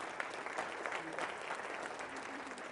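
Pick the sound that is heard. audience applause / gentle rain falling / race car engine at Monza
audience applause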